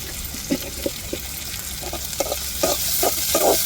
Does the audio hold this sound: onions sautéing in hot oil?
yes